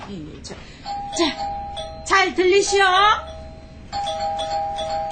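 A doorbell rings twice in a radio drama scene, a bright ding-dong chime ringing out loud and clear. A voice speaks between the rings.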